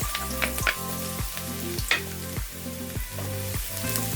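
Garlic frying in hot cooking oil in a pan for an egg curry, a steady loud sizzle with a rhythmic series of scraping stirs about every half second, with no talking.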